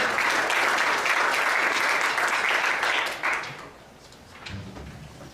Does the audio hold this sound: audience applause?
yes